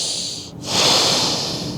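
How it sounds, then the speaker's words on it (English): Heavy, audible breathing during pranayama practice: a loud, rushing inhale or exhale close up, briefly broken by a short pause before a stronger airy rush continues. "People also make a lot of sound with the breathing like this."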